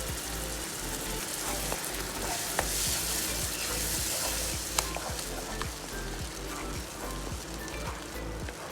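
Tomato paste fries and sizzles in an oil-filled pan while being stirred for a red pasta sauce, giving a steady, close crackle with faint scraping strokes and no talk.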